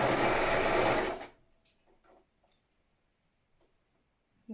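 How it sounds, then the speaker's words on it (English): A sewing machine stitching slipper pieces with thermal batting together, a brief loud whirring run that stops abruptly, followed by soft ticks and small handling clicks in near silence. "I'm just going to sew those together."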